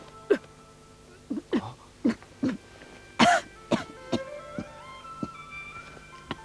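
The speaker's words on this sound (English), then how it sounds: "you still got your cough." Several coughs and throat-clearing bursts from an older woman, spaced irregularly across the stretch, fairly close and moderately loud with short pauses between them, no speech over them.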